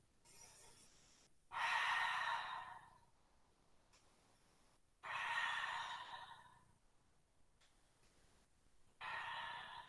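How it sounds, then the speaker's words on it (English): Slow, deep breaths during a yoga class, three long airy exhalations spaced a few seconds apart, close and fairly quiet with no talking. "Breathing."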